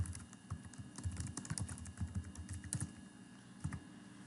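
Keystrokes on a computer keyboard come as irregular bursts of close, quiet clicks while a chart title is typed, with pauses between words and no talking.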